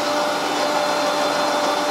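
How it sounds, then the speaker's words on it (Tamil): A mixer grinder grinding coconut with water whirs loudly and steadily at full speed, a constant motor drone with no voices. "தேங்காய் பாலுக்கு மிக்ஸி ஜாரில் நம்ம அரைச்சி எடுத்துக்கலாம்"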